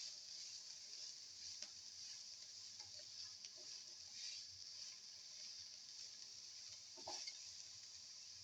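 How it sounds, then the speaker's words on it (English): Chicken liver, okra and potato sauté in a pan with a soft, steady sizzle and occasional faint stirring clicks, quiet and close. "Thoroughly saute and mix."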